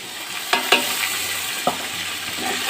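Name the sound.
stirring tomato and spices in a frying pan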